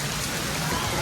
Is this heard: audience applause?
no